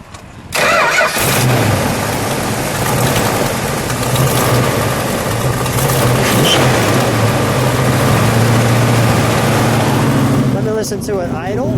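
A 1970 Plymouth Cuda with a factory 426 Hemi and four-speed cranks and catches with a loud burst, then settles into a heavy, rumbling idle close by for about ten seconds before cutting off.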